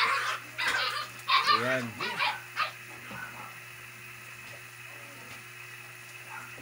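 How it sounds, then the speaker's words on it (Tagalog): Puppies yip, bark and whimper in a cluster of short, bright bursts nearby, then fade into quiet background noise in a home kitchen where monggo is being cooked, with a voice speaking briefly. "medyo maingay lang yung mga tuta namin"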